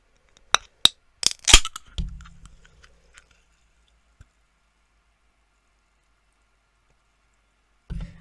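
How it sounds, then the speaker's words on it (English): A fizzy drink can cracked open: a few sharp clicks and a pop, then a short hiss of escaping gas that fades quickly, followed by quiet and a muffled thump at the end. "I've got a little can opening ASMR for if you want to hear the bubbles go"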